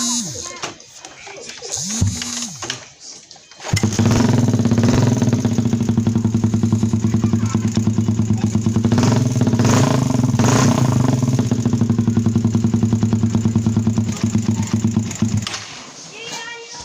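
Suzuki Satria FU motorcycle engine, freshly assembled and started with a screwdriver in place of a key, catches after a short attempt and then runs at a steady loud idle close by before cutting off, with someone talking around it.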